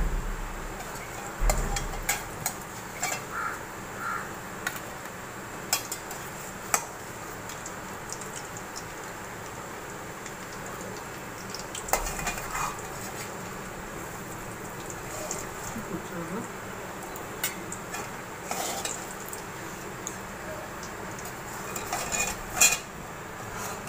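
Fried potatoes are lifted out of a pan one by one with scattered metallic clinks and taps of utensil against pan over a quiet background, while a person talks intermittently.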